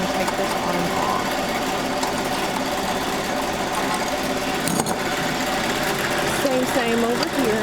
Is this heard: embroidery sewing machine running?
yes